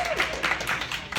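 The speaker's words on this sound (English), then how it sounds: "So I have a round of applause for Gary Dytor." Brief applause greets a guest on an interview show: a short burst of clapping, fairly close and moderately loud, with a voice partly over it.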